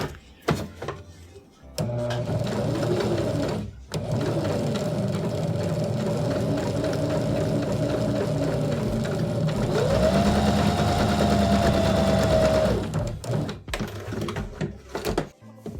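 A sewing machine stitching a homemade surgical mask, running in a steady close whirr for around eleven seconds with a slight speed change near the end, between brief pauses and handling noises.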